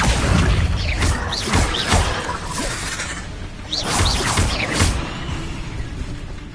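An Accio summoning spell cast in the Hogwarts Legacy video game: a rapid series of magical whooshes and glassy, shattering crackles in two bursts, loud and close, with no talking.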